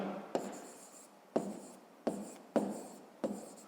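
A pen writes on paper in five short scratching strokes, each starting with a soft tap against the page and fading quickly, close and fairly quiet with no talking.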